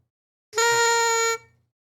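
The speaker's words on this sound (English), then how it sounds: "3 honks for one show" A single steady horn honk blares for about a second, loud and close, then cuts off into silence.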